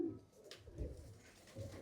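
Bukhara pigeons coo softly inside a pigeon loft, a few low throaty rolling calls repeating at a slight distance under faint background noise.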